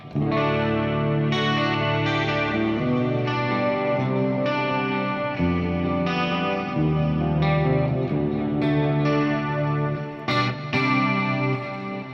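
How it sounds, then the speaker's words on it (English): Clean electric guitar tone through a Fractal effects unit with a very wet chorus, the typical 1980s clean sound, playing sustained shimmering chords steadily and loudly for the whole stretch with no talking. "Because I wanted to get the typical 80 clean sound, very, very wet."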